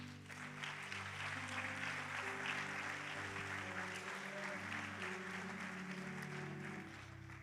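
A church congregation applauds for several seconds, a dense, steady wash of many hands clapping over sustained organ or keyboard chords, with no speech.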